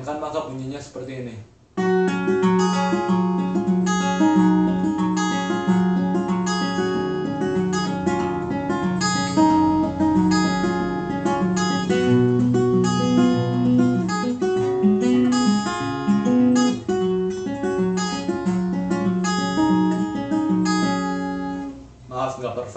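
Fingerstyle acoustic guitar plays the intro of a song, clear plucked melodic notes over bass lines, steady and close for about twenty seconds with no talking.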